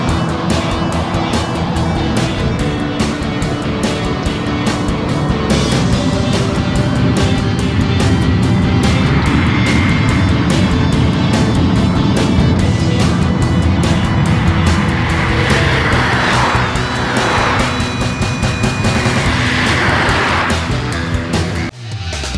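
Mercedes-Benz CLA 250 driving and accelerating, its engine roaring steadily and loud throughout, with a rising rev and brief tire noise as it pulls hard; no talk.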